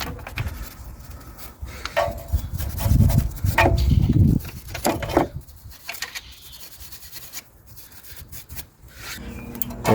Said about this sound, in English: I've just cleaned those threads up with a wire brush